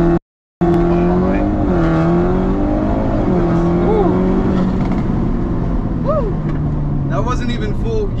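A 2022 Audi S3 in sport mode launches hard, its engine note climbing through rising gear-by-gear revs after a brief silence, loud from inside the cabin with people talking over it.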